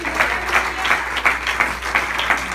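A church congregation applauds together in steady rhythmic unison clapping that fills the room, loud and sustained throughout.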